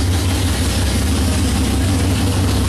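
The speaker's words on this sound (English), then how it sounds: "let's listen to this bad boy idle" A 454 big block Chevy V8 in a 1955 Chevy hotrod, newly revived after sitting 25 years, idles loud and close with a deep, steady, unbroken rumble.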